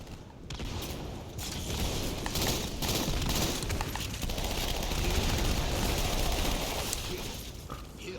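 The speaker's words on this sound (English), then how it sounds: "I also love the sound effects for the grenades in these" Grenade explosions and heavy gunfire rumble in a video game battle: dense, loud, continuous booms and crackling blasts fill several seconds without a break.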